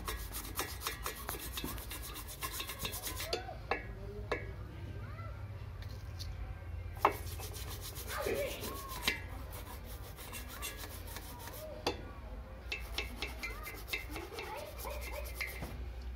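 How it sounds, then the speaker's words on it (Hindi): Close, steady rubbing and rasping as a Rajdoot 175 two-stroke motorcycle's engine head is scrubbed clean, with scattered clicks and knocks from the work, continuing through the whole stretch. "हेड को भी थोड़ा साफ कर लें"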